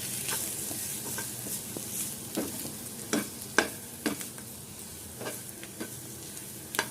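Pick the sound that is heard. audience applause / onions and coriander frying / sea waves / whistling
onions and coriander frying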